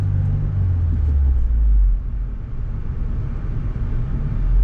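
A 2022 Subaru WRX with a manual gearbox drives in second gear, its engine giving a loud, close low rumble that eases briefly and then builds again.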